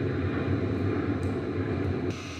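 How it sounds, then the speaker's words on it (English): An airplane passes overhead near Bayside Marketplace in Miami, a continuous low engine drone that stays loud and steady before easing slightly at the end. "Airplane flying by right now."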